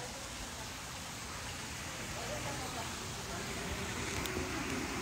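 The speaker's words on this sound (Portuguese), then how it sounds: "Tem fonte aqui atrás. Tá atrapalhando aqui, ó." A water fountain splashes right behind, making a continuous, even hiss of falling water that fills the background at a fairly low level without pause.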